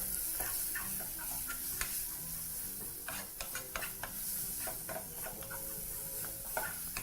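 Onions stirred in a pot with cumin and a dissolving stock cube, a steady soft sizzle under repeated scraping and clinking strokes of the spoon, close and continuous with no talking.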